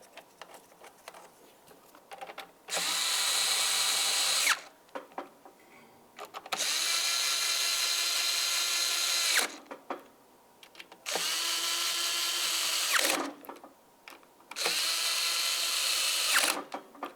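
A power drill whirs in four sustained bursts, each a few seconds long with pauses between, as it snugs the throttle body mounting bolts on a Ford Transit Connect engine; close and loud, with faint clinks in the gaps.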